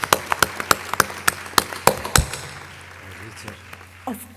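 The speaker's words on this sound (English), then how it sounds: "please give them a round of applause for their hard work and dedication during this program" Brief round of applause for young scientists at a translational medicine conference, a few sharp claps standing out at first before the clapping thins and fades, with a low steady hum underneath.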